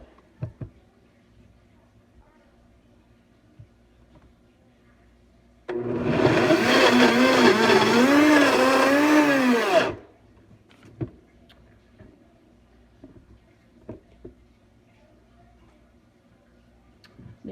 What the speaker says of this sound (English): This is what happens when you put your hand in a blender.